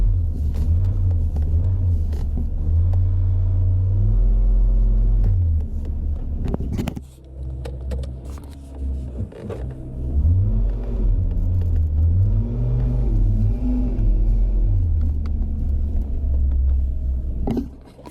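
Hummer H3 driving on a damp road, heard from inside the cabin as a loud, continuous low engine rumble that rises and falls with gear changes and acceleration, with no talk over it.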